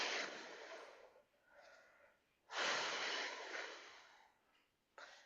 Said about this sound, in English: Make sure we're breathing out through pursed lips.